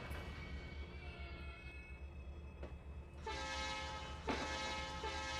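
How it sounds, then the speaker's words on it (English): A train horn in the Trainz 2022 simulator game blares in two long blasts over a constant low rumbling engine drone, the horn loud and sustained. "Well, that train horn is nice. I can hear from a long ways off."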